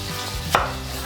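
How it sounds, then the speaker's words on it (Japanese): A single sharp knife chop through an onion on a cutting board, one close crisp impact standing out against a low hum of room background, with no voices. "玉ねぎ切っていきましょうかね"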